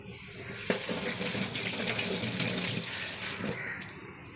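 Tap water gushes steadily into a sink while fish is being washed, a close, continuous splashing stream that starts abruptly and holds for several seconds before easing, with a faint clink near the end.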